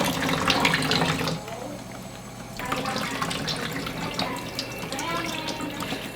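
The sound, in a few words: water rinsing soap out of rabbit hides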